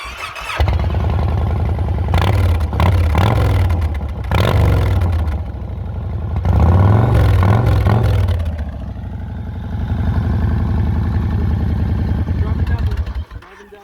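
A Yamaha Raider motorcycle with a Freedom exhaust starts up and runs close by, its deep, loud engine note rising and falling through several throttle blips before cutting off.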